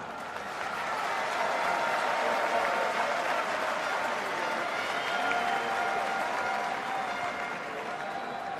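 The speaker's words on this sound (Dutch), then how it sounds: "Graag ook van ons uit nog een keer een hartelijk applaus." Crowd applause at a Special Olympics opening ceremony, honoring the Royal Netherlands Army, sustained and even for several seconds, swelling slightly early then holding steady before easing at the end.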